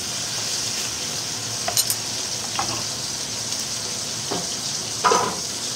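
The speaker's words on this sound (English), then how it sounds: "You want it sizzling like this." Chicken sizzles on a hot grill, a steady close crackling hiss with a few sharper pops and scrapes breaking through.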